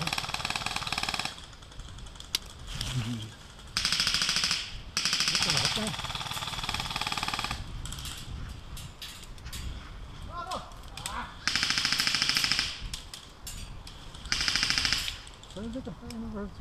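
Video game gunfire in TrenchAssault comes in loud bursts of rapid, machine-gun-like shots separated by quieter gaps, with voices talking over the action.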